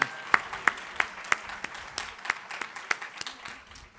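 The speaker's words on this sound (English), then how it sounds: "How about one more round of applause for the laureates?" Audience applause at a prize ceremony for laureates, with sharp, evenly spaced claps close to the microphone standing out over a softer background of many hands, tapering off toward the end.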